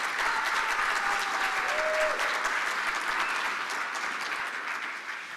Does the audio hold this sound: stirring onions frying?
no